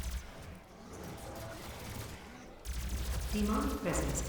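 Gunfire from a slow-firing weapon in the video game Doom 2016, bursts of shots and impacts that grow louder partway through, with someone talking over the action.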